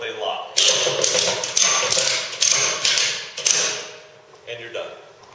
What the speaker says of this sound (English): you are now going to want to ratchet them down into place until they lock